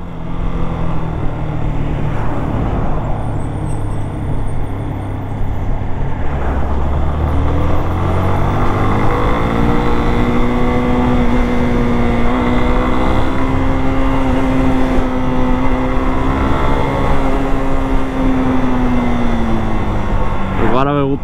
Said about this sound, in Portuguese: Caminhão